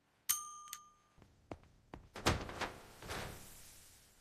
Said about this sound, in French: La minuterie a sonné, on va vérifier les cookies.